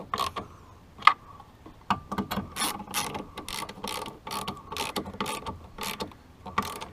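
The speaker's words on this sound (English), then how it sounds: "Go back and fully tighten them up once all 3 of them are tight." Mounting bolts on HD towing mirrors fitted to a Silverado are tightened with quick bursts of close, crisp mechanical clicking, repeating in irregular runs with no talking.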